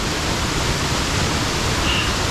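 A waterfall in Wales rushes with a steady, dense roar that fills the whole stretch without pause or variation, with no voices.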